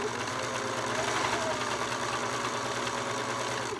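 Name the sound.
serger sewing clear elastic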